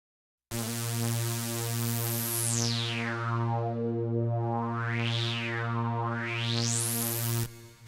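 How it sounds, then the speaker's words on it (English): A single long mono synthesizer note held steady while its low-pass filter sweeps down, then up and down again, and rises once more before cutting off; no voices. "the only thing that I'm doing with the value fader right here is controlling the low pass"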